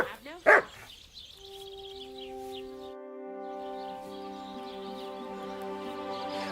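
A dog barks once loudly and close in the medieval role-playing game Kingdom Come: Deliverance II, followed by a few brief yelps before sustained musical tones take over.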